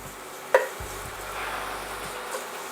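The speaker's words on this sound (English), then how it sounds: "we're just gonna continue to stir and crumble our ground beef and cook it until it's brown" Ground beef seasoned with paprika, cumin, garlic powder, salt and pepper sizzles steadily in a skillet, with one sharp scrape of the spoon while it is stirred and crumbled, close and fairly quiet with no talking.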